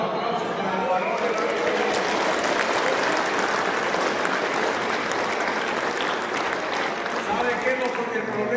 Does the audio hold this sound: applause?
yes